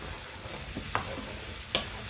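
Egg green masala curry stirred in a pan, a quiet bubbling sizzle broken by two sharp scraping knocks of the spoon against the pan, no voices.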